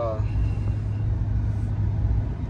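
A 2024 Chevy 2500HD pickup with the 6.6L engine pulls under throttle, a steady, heavy low rumble heard from inside the cab with no rise or break.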